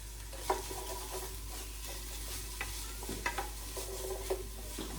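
Chopped vegetables for chili sauté in a pot with salt and pepper, a faint steady sizzle under a low hum, broken by a few scattered spoon scrapes and clinks.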